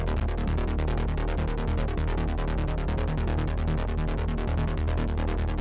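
Hard techno synth line lightly saturated in analog clip mode for a touch of crunch, pulsing in a fast, steady, dense rhythm over a driving low end, loud and continuous without any talk.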